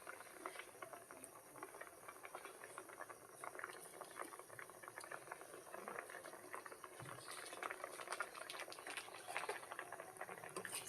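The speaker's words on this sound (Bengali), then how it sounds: "এইভাবে টকবক করে ফুটবে আর মিষ্টিগুলো ছেড়ে দেবেন।" Milk for sweet semolina malai boils hard on a high gas flame with sweets dropped in. The bubbling is soft and continuous, a faint, even patter with light hiss.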